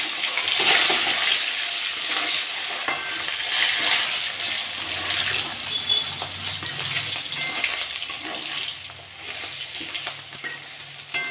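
Fish pieces fry in hot oil in a pan, a steady, loud, crackling sizzle that runs unbroken for about eleven seconds with small spits and bubbles throughout.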